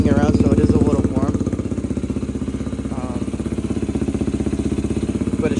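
A 2004 Yamaha TTR 125 dirt bike, warm from riding, runs steadily after a single kick start, its small engine putting out a loud, close, even thumping chug throughout.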